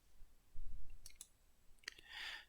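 Mouse clicks on a surveillance software interface, a few faint, sharp clicks spaced apart over a low background hiss, with a brief soft rustle.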